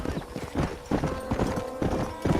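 Horse hooves galloping in Red Dead Redemption 2, a quick steady clip-clop rhythm close up, with a faint voice in the background.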